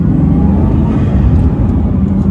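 A Bugatti Chiron accelerates on city streets, its engine a loud, dense, continuous roar heard from inside the car, with no one speaking.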